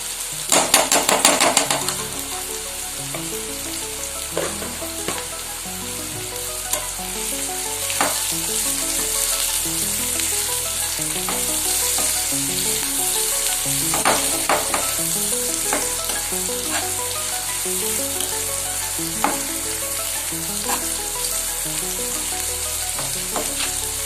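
Onions sizzle and fry in ghee for a fish korma, a continuous loud crackle broken by repeated scraping and stirring knocks from a utensil against the pan.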